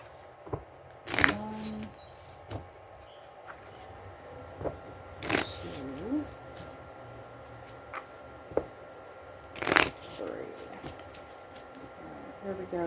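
Tarot cards being shuffled and handled, soft riffles and sharp card snaps scattered through a quiet room, with occasional talking.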